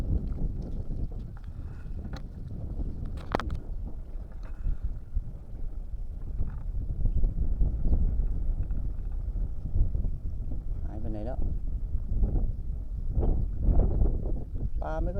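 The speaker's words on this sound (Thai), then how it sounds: "ลมแรงมาก" Strong wind buffets the microphone outdoors on an evening fishing trip for tilapia, a steady low rumble with irregular gusts, while someone talks over it now and then.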